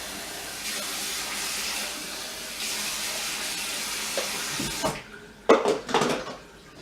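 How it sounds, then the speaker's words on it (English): Water is poured from a rinse cup to rinse down a bathroom sink, a steady running, splashing wash for about five seconds, ending with a few louder close splashes and drips. "Lastly, we use the rinse cup, to rinse down the sink."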